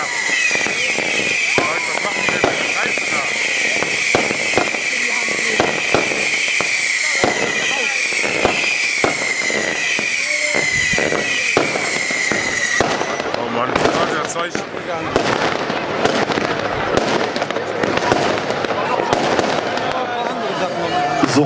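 Two firework cake batteries fired together at a Düsseldorf pyrotechnics team demonstration, loud crackling and popping bursts rapidly overlapping with a whistling hiss for the first half, then denser crackle, while someone talks over it.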